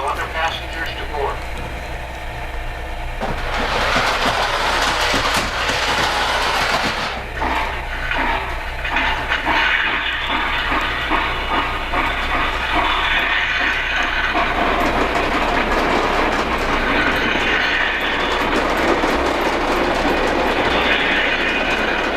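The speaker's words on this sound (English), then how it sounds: "One of the things that I really enjoy is running the trains in subdued lighting." An O-gauge Polar Express model train runs steadily on a home layout with a continuous rolling clatter and hiss, close and fairly loud, while voices speak over it throughout.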